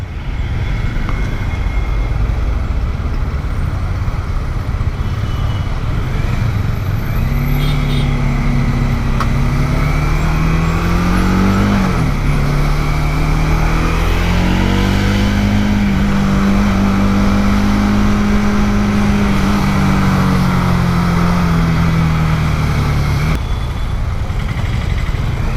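A motorbike rides through busy street traffic in India, its engine droning loud and steady with a rising and falling pitch as it accelerates and eases off, surrounded by the roar of nearby vehicles.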